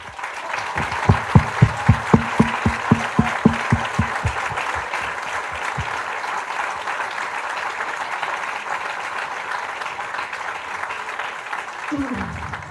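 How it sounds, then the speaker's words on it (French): A crowd at a French municipal campaign rally in Argenteuil breaks into rhythmic, unison clapping that beats sharply for several seconds before dissolving into looser sustained applause, with a voice rising near the end. "je vous prie de les applaudir chaleureusement avec moi"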